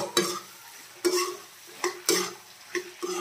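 Duck meat is stirred and fried in a pan: a low background sizzle is broken by about six sharp scraping strokes of a spatula against the pan, spaced irregularly and close by, with no voices.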